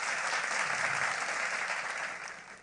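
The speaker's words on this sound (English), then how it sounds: "Please keep clapping for him." An audience at a professional women bankers' marquee event in Nigeria applauds, dense sustained clapping from a crowd that holds steady and then tapers off toward the end.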